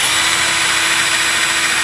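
A power drill drives screws into casters on a wooden over-freezer table, a loud steady whirring drone held for the whole stretch, close and unbroken.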